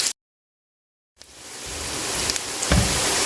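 Chopped medium onions hit hot oil on a tawa after a short silence, starting a steady, close, hissing sizzle that builds and stays loud, with a brief sharper crackle near the end.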